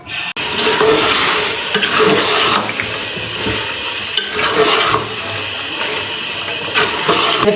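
Chicken keema with peas fries in a pan, a loud continuous sizzle broken by stirring scrapes and bursts, close and alone without speech.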